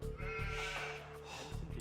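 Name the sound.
sheep bleating in Age of Empires video game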